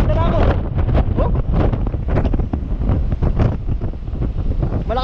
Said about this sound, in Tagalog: Lakas na po ng hangin guys.